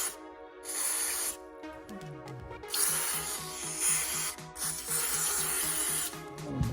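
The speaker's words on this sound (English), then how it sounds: "I'll blow some compressed air here." Compressed air blasts in several long hissing bursts while cleaning the float bowl of a 1985 Honda XL250R RFVC carburetor, with a small compressor chugging rhythmically in the background.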